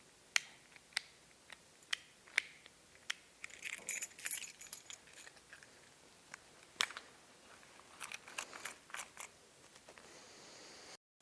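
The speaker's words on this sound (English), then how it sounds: "one of my, I guess, favorites is just like flipping my keys in and out" Keys are flipped and jangled in one hand, giving a series of sharp metallic clicks at a fairly regular pace, then a busier burst of rattling jingles, all close and quiet with no talking.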